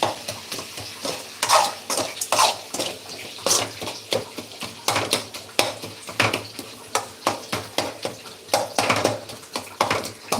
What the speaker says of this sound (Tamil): மட்டன் செஞ்சிட்ருக்கேன் அதுக்கு தேவையானது வதக்கிட்டுருக்கேன்